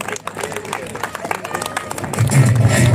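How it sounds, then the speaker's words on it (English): A school Foundation Day audience applauds a student council speaker. Scattered claps and crowd murmur under a host's voice build into loud, sustained applause and cheering over the final second. "Let's hear a huge round of applause for Arya."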